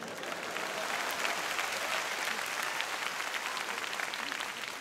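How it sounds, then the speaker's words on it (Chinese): An audience at a Cantonese stand-up comedy show claps in a dense, even burst of applause that holds steady throughout, with no voices over it. "大家為佢鼓掌。"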